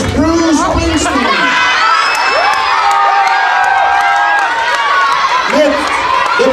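A talent-show crowd cheers and shouts as an act and band come on stage. The whoops and yells are loud and continuous, with children's shrill voices and rising calls throughout.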